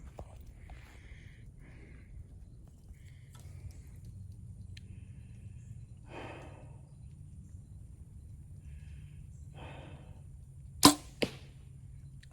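An arrow shot from a bow outdoors strikes a target 90 feet away, heard as a sharp distant thwack followed by a smaller second knock near the end, after quiet ambience with faint scattered rustles and bird-like chirps.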